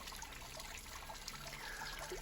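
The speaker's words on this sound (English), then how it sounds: "listening to the water and the sounds of nature" Water trickles and dribbles steadily in a natural outdoor setting, a faint continuous babble with soft splashes and no voices.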